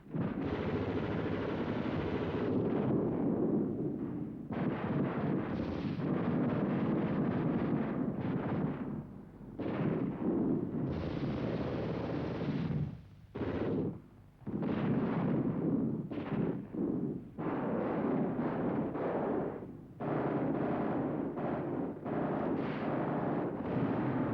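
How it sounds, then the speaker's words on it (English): Machine guns rake open terrain in WW2 combat footage, dense rattling bursts that roar continuously and break off in short gaps, rough and loud against a wind-blown background. "MGs streuen das Gelände ab."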